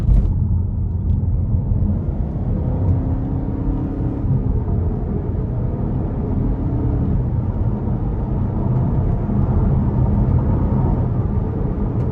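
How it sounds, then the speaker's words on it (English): Cabin of a 2021 Buick Envision Avenir on the interstate, with a steady low engine and road drone as light throttle is applied, with no clear rise in pitch. "We're gonna give it a little throttle here."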